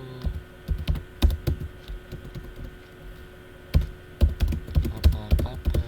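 Fingers type on a computer keyboard while entering text at a Linux command line: quick irregular bursts of crisp, close key clacks separated by short pauses, with no voice.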